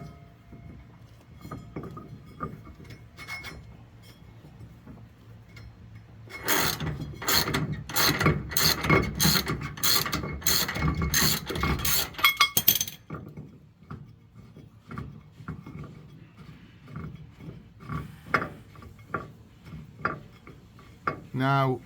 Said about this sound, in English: use a bar to create more force on the ratchet and then start unscrewing until the plate is completely out